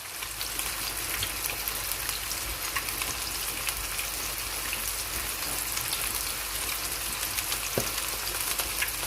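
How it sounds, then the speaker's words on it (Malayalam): Fish fries in hot oil in a pan for a Kerala hotel-style fish fry, making a dense, continuous crackling sizzle that stays close and steady throughout. "അതിലേക്ക് നമ്മുടെ മീനിട്ട് കൊടുക്കാം"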